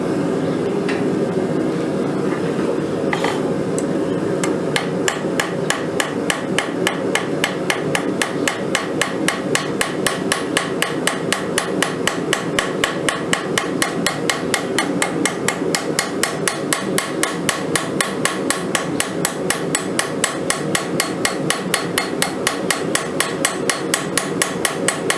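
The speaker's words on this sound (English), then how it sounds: "Just taking the corner of my hammer here on the face where it's rounded over, just kind of hammering out there" A blacksmith strikes steel hooks on an anvil while forging, with dozens of evenly spaced, ringing hammer blows in a steady rhythm, close and loud over a low background hum.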